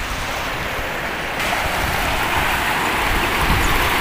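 Steady rushing water from a supply pump and motor passing through a filter outdoors, a continuous broadband wash that grows slightly louder partway through, with no talking.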